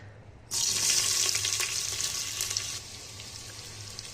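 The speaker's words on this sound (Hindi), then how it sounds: "प्याज को थोड़ा सा ना हल्का सा ये फ्राई कर लेंगे" Chopped onion hits hot oil with a sudden loud burst of sizzling, then settles into a steady, softer fry, heard close up with no voices.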